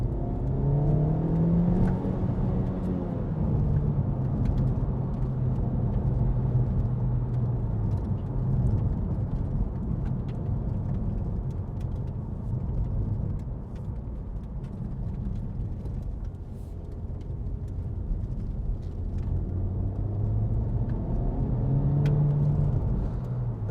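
A Honda Civic 2.0 i-VTEC Type R GT accelerates on a straight road, its engine a steady interior rumble and whir, heard from inside the cabin. The engine note rises in pitch at the start and again near the end.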